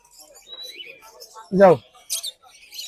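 Pet birds, including parakeets and cockatiel chicks, chirp in short, thin, high tweets at the Mirpur 1 bird market, scattered and fairly quiet, with a brief nearby voice cutting in midway.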